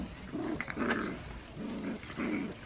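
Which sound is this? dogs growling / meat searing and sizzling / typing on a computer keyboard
dogs growling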